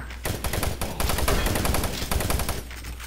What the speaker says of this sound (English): Attention, automated turret guns offline. Oh, now they're operational.